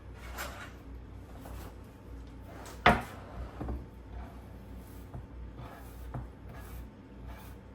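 Chopped ingredients for a fresh Italian marinara sauce are scraped into a pot with a few distinct wooden knocks and scrapes, one sharp louder hit near the middle, followed by softer intermittent scraping and shuffling, with no talking.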